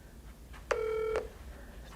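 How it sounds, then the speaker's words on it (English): A smartphone places a call to an Akuvox R20 video intercom, giving a short electronic tone of about half a second with a steady pitch. It sounds close and clear over a quiet room hum. "This is going to send a call to the intercom out there."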